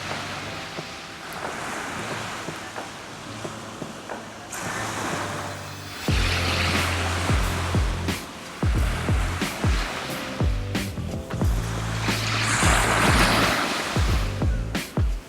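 Ocean waves wash onto the shore in broad swells that rise and fall over a low rumble, with wind noise at the microphone, steady and fairly loud.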